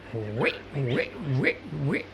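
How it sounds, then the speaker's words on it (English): Four rising squealing grunts repeat in a steady rhythm, close and moderately loud, like young pigs calling back and forth. "that's the little piglets calling to each other"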